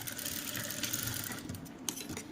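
A domestic sewing machine runs a seam on a kurti being stitched at home, a quiet, continuous whirring with faint clicks and small ticks throughout, no voices over it.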